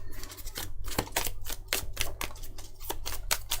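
Arkham Horror card game playing cards being shuffled by hand, a quick series of crisp riffling snaps and clicks in an irregular rhythm, close and clear.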